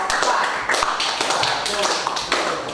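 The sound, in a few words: classroom applause for group 4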